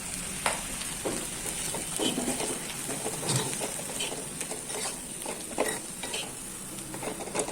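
Onions stirred in a hot wok, heard as a steady sizzle of frying with repeated scraping and clinks from the stirring spoon, close and alone with no talk.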